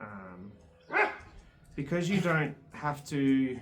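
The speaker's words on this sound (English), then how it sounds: "You can probably hear my dogs in the background" Dogs barking in the background of a home spoon-carving workshop, several sharp barks and yips in short bursts, fairly close, mixed in with a person speaking.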